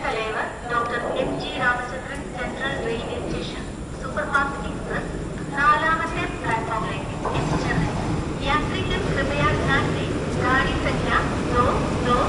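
The 22640 Alappuzha-Chennai express rolls into the station with rhythmic wheel clatter and rumbling carriages, while people talk nearby on the platform.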